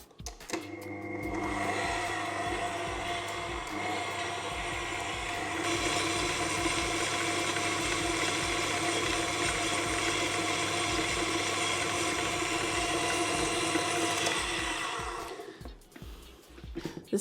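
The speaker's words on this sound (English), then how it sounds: "Excuse the noise of my stand mixer." Stand mixer beating Victoria sponge cake batter, a loud steady mechanical whir with a constant motor hum that holds for about thirteen seconds, steps up in speed partway through, then winds down and stops.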